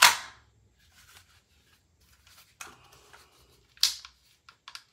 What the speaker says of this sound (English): Dust flap flew open.